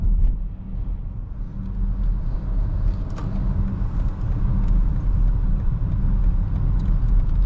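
Inside a 2020 BMW X5M Competition SUV while it drives, a steady deep engine rumble and road drone hold at a constant level throughout, with no talking.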